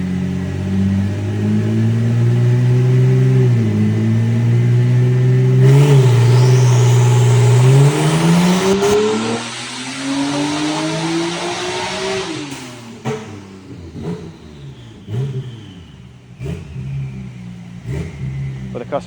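A rear-wheel-drive car making around 1,000 horsepower at the wheels revs hard on a dyno, engine pitch climbing through a long loud pull before dropping off, followed by a few shorter blips with talk over it.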